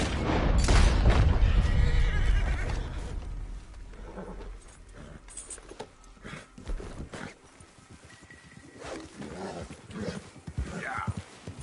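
A horse in Red Dead Redemption 2 lets out a loud whinny at the start, followed by quieter hoof clops and scattered game sounds that fade and flicker over the rest of the stretch.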